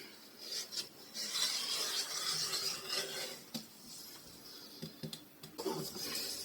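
Scissors or a rotary cutter slicing through vintage fabric held flat, a steady rasping cut running several seconds with brief pauses and small clicks, close and moderately quiet.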